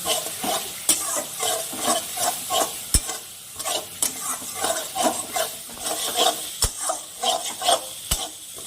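Turmeric and chili powder masala stir-fried in a pan, a steady sizzle with repeated scraping strokes of a spoon and a few sharp clinks against the metal, close and continuous.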